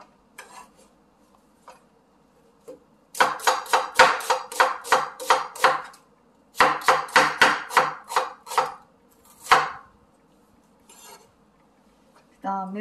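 A knife chops an onion on a cutting board in two quick bursts of rapid, evenly spaced strikes, each run about three seconds long, with a few isolated knocks before and after.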